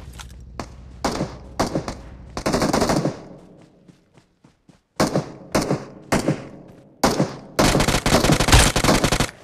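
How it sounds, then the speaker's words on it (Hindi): Bursts of automatic gunfire from the BGMI mobile battle royale game, loud and close, firing in rapid volleys with short pauses between them and a long sustained burst near the end. "इतने में हमको आता है फायरिंग का साउंड और भी बहुत तगड़ा"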